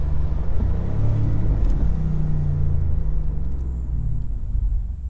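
A 2019 BMW M850i Convertible xDrive cruising with the top down gives a loud, deep, steady exhaust rumble and engine drone mixed with road and wind noise, close and continuous.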